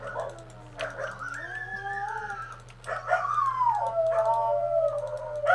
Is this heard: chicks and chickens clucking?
no